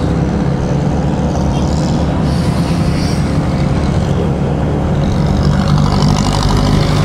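A Honda Winner X motorcycle on a ride, its engine and wind roar steady and loud throughout, close up, with no voices.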